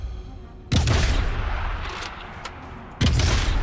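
Two heavy sniper rifle shots in the World War II shooter game Sniper Elite 5, each a loud, sudden boom with a long rumbling tail, the second following about two seconds after the first fades.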